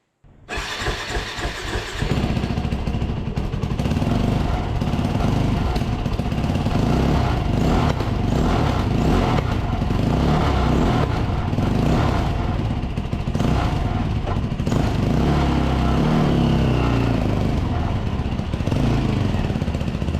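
A repowered go-kart engine roars steadily as the kart is driven, loud and continuous for most of the stretch after a brief start-up of sputtering pops.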